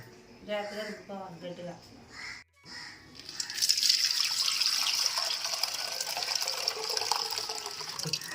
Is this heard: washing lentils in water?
yes